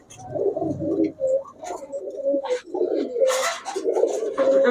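Benaras Kaldam pigeons coo in low, throaty rolling phrases, repeating steadily close by, with faint fluttering and light background noise.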